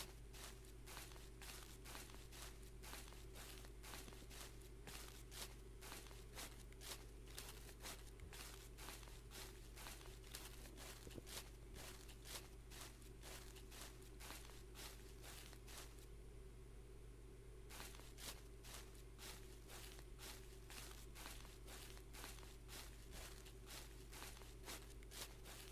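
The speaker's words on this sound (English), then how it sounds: "Only thing I hear are my footsteps and the computer in the background." Steady crunchy footsteps through snow in the video game Lieve Oma, a long regular walking rhythm close by over a constant low computer hum, with a brief pause near the end.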